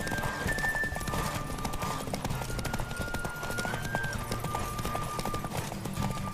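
Rhythmic clip-clop of a galloping horse in The Witcher 3: Wild Hunt over a dense, steady backdrop of game music and ambience, continuous throughout.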